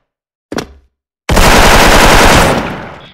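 Video-game gunfire: a brief single report, then after a pause a sustained loud burst of rapid automatic fire lasting nearly two seconds before trailing off.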